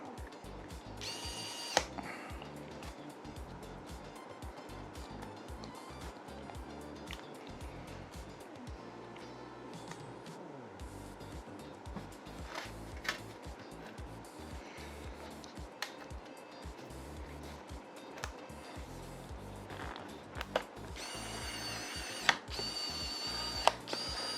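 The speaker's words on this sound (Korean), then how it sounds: "이런 전동 드라이버 중에서는 얘가 최고라고 전 자부합니다" An electric screwdriver built for smartphone repair work drives screws while a MacBook is assembled, giving quiet intermittent motor whirs and small clicks of parts handled up close over a low background hum.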